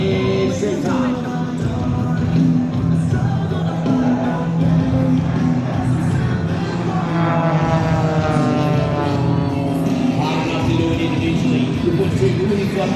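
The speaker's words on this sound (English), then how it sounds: "We've really got 4 planes, 4 aircraft within inches of each other." Propeller aircraft fly in close formation at the Shell Harbour NSW air show, a steady loud droning engine tone with shifting pitch as they pass, and a commentator talking over it throughout.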